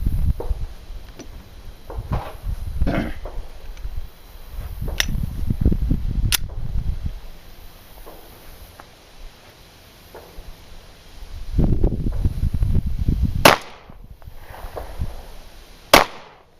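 Gunshots fired at an outdoor gun range, a few sharp cracks spaced well apart, some distant and one loud and close, over low rumbling handling noise and wind.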